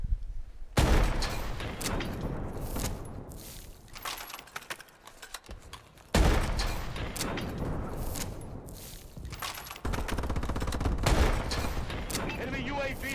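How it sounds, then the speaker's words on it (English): A blunderbuss firing and reloading in a video game, with a lightning effect: heavy booming shots each followed by rattling, clattering reload noise, repeated a few times in loud bursts. "Listen to when you shoot the blunder bust and when it reloads."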